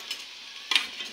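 Mashed jackfruit pieces drop into hot spiced tempering with turmeric in a Konkan-style pan, giving a soft steady sizzle and then a brief louder crackling burst as they hit the oil.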